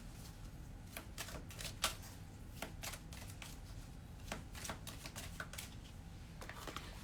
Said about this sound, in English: So, I'm going to pull a card to get us started.